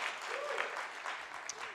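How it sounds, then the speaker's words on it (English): An audience applauds at a live cat-themed event, a steady wash of many hands clapping at moderate volume, with a faint voice briefly audible beneath it. "I was like, yeah, go ahead, applaud."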